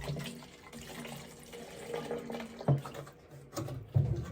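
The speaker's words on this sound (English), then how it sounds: "I'm gonna add just a little bit more water." Water splashes and trickles steadily into a potted plant container, with a few louder gurgling splashes near the end.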